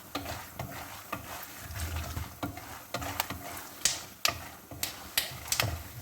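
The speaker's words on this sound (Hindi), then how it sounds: "साथ मूंगफली डाल देने लगी हूँ। इसको थोड़ा रोस्ट करते हैं।" Peanuts roast in a pan for chicken vermicelli. Irregular sharp ticks and clatters sound as the nuts shift and rattle against the metal, over a faint sizzle, close by with no voices.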